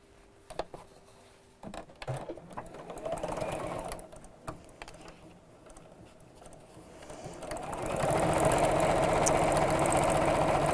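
A sewing machine stitches quilt block pieces with a quarter-inch seam, starting with scattered clicks and handling noises, then a steady loud whirring run over the last few seconds, with no talk.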